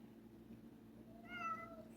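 A house cat meows at a door, wanting to be let back outside on a cold morning, with a short rising and falling call standing out clearly over a steady low kitchen hum.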